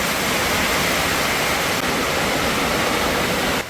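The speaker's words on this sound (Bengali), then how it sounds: "দেখেন আপনার কি পরিমাণ বৃষ্টি হচ্ছে যে বালুর উপরে পানি নামে যাইতেছে" Heavy rain pours outdoors onto sandy ground, a dense, steady hiss of downpour that holds constant and loud throughout before cutting off abruptly at the very end.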